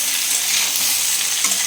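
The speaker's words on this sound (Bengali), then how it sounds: "দুটোই ভাজা হবে একসাথে।" Potato and eggplant fry together in a hot pan with neem leaves, giving a close, continuous bright sizzle with no talking.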